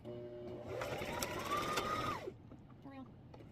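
A sewing machine stitches a small fabric organizer, running close and steady for about two seconds before winding down and stopping, with faint sounds after.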